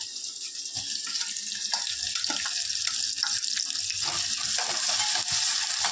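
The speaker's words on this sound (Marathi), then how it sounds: "चांगलं फ्राय करून घेतली टोमॅटो कांद्याची" Onion and tomato frying in a pan while making a Konkani wet cashew vegetable dish, a steady hiss of sizzling with scattered stirring scrapes and clinks throughout, close and fairly loud, no talk.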